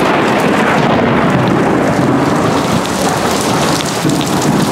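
Steady heavy rain pours close by in a thunderstorm, with a continuous loud downpour and low thunder rumbling beneath it throughout, no voices.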